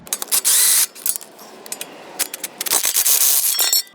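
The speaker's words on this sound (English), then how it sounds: "now I could use the cordless impact" A cordless impact wrench works on the wheel of a 2015 Toyota RAV4 during a brake job, giving bursts of harsh, rattling hammering with clinks and metallic clatter between them, close by.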